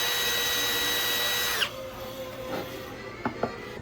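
A power drill bores a hole through a Nordhavn boat hull for an underwater light, whining steadily and loudly close by and then cutting off, followed by a few faint knocks and clunks.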